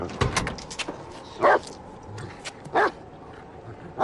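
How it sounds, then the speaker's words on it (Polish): A dog in a film scene barks twice, in short, loud bursts about a second apart, over a low background hum with a few brief sounds just before. "Spokojnie, piesku."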